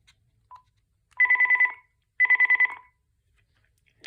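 A cordless phone from a two-line corded/cordless answering system rings the base on intercom: two short bursts of a warbling electronic trill, about a second apart, clear and close in a quiet room.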